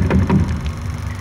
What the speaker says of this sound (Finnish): Yhtäkkiä joku koputti oveen.